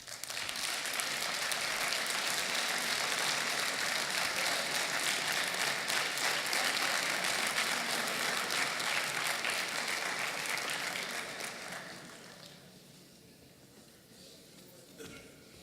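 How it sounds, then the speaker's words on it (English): A forum audience applauds in a long, dense, even roar of clapping that holds for about eleven seconds before tapering off into scattered claps and quiet room noise. "Can we get another round of applause for Harry Elam, please?"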